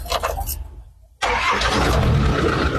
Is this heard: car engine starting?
yes